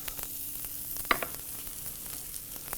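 Butter melts in a pan for grilled chicken livers, giving a faint, continuous sizzle with a light tap or clink partway through.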